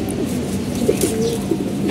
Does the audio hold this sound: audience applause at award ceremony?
no